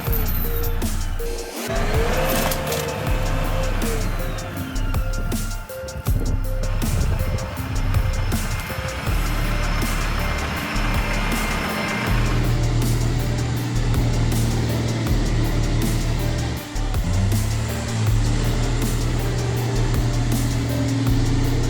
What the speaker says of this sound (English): The engine roared loudly. More than 600 horsepower transmitted to the ground.